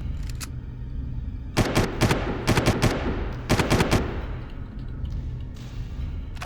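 Rifle fire in the video game Far Cry: several loud bursts of rapid shots in two close clusters over a steady in-game ambient bed, with no talk.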